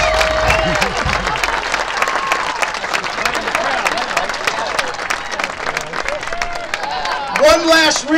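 A crowd at a Special Olympics event gives a round of applause for Juice, sustained clapping from many hands with cheering and crowd babble mixed in, a voice speaking over it and a whistled or shouted rise near the end.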